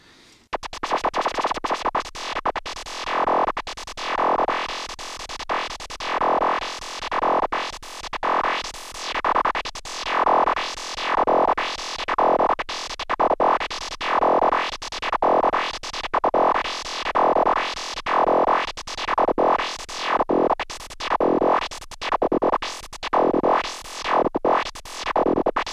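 Arturia MicroFreak synthesizer with a sine-wave LFO sweeping its filter cutoff, producing a steady, loud, distorted tone whose brightness rises and falls in smooth repeating waves, alone with no talk.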